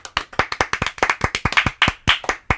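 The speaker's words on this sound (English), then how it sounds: "Come on, clap." Several people clap hands in a small room, about twenty sharp, slightly uneven claps in quick succession, loud and close with no talk.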